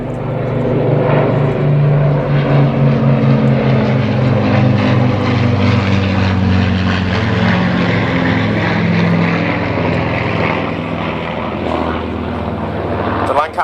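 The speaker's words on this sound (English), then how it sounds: "on his wing we have the Mark 19 and the Mark 9 Spitfire" Propeller drone of a Lancaster bomber flying with a Mark 19 and a Mark 9 Spitfire at a Battle of Britain Memorial Flight air display, a steady loud engine roar sustained throughout.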